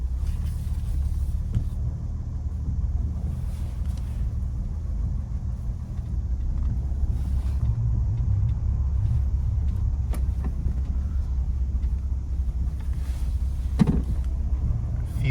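A 1966 Jaguar XKE Series 1 2+2 is driven through deep snow on a cold day, heard from inside as a steady low engine and road rumble with occasional faint knocks and rattles.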